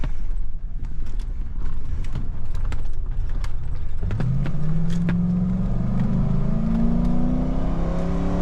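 A 1994 Ford Econoline van with a 5.8 V8 accelerates under a steady loud engine drone, with rising engine tones climbing through the second half as it pulls harder.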